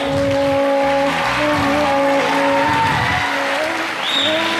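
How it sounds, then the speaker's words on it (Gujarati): Loud clapping from a crowd at an Indian Catholic Youth Movement Youth Day celebration carries through, mixed with sustained tonal music or hum; the applause stays dense and continuous throughout. "જોરદાર તાળીઓ તેમના માટે"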